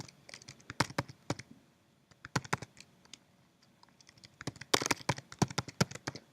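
Keys clatter on a computer keyboard in quick irregular bursts of sharp clicks, close and fairly quiet, with short pauses between flurries of typing.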